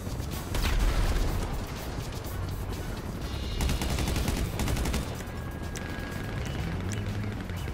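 Gunfire in GTA Online, bursts of shots and rattling rapid fire mixed with booming game noise, fairly loud and dense through most of the stretch.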